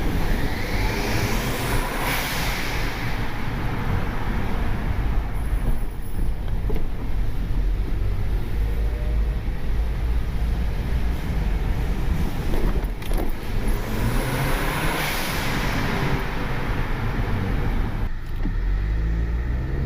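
A car engine with a turbo drones steadily under load, rising and falling in two long surges, with no voices over it.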